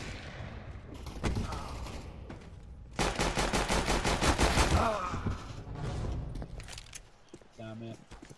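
Rapid automatic gunfire rattles in a Counter-Strike: Global Offensive match, with a sharp burst of sustained fire in the middle. Players talk excitedly over the shooting.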